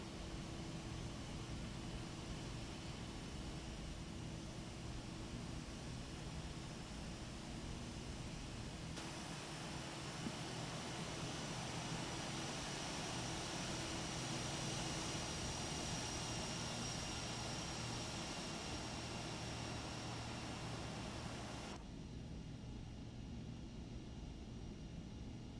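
An Aerobask Epic E1000 turboprop taxis in X-Plane 11, its engine a steady, even drone with a constant whine and hiss, unbroken throughout.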